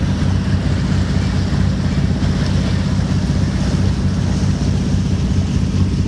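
A boat bus (water taxi) crossing the sea off Florianópolis, heard as a loud continuous low engine drone mixed with wind buffeting and rushing water, with no voices.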